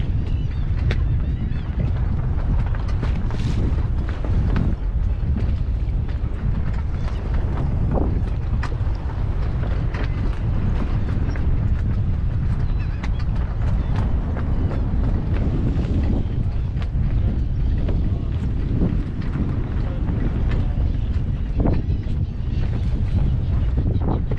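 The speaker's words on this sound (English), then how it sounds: "Woo, it's getting breezy." Strong wind blowing across a small fishing boat on the water while out for flounder: a loud, constant roar and buffeting that goes on without a break, with occasional low gusts.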